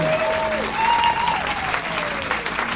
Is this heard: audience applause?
yes